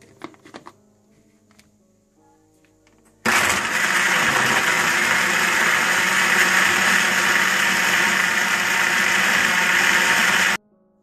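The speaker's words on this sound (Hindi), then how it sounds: "इसको अब आप अच्छी तरह से ब्लेंड कर लें।" Electric blender whirring through cold coffee, a loud steady motor roar that starts abruptly after a few quiet seconds of small clinks, holds for about seven seconds, then cuts off.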